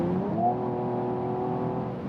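Mercedes E53 AMG Estate from 2019 accelerating under full throttle at high speed, a smooth rising engine tone heard faintly from inside a quiet cabin, steady and continuous with no talking.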